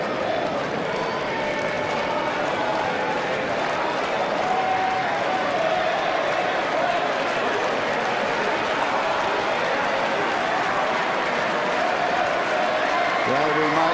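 Tennis crowd at the 2005 Miami final between Federer and Nadal gives Nadal a long, steady ovation, with continuous applause and crowd noise throughout, while a commentator talks over it.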